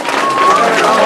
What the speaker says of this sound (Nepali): नानीले ताली बजाइदिउ